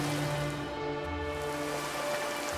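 Steady rain falls as a storytelling sound effect, an even, unbroken hiss of drops throughout with a faint low hum beneath and no voices.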